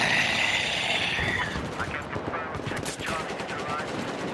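Gunfire in the video game Battlefield 4, rapid automatic bursts crackling over a dense battle mix, with a brief lull in the middle before shots resume.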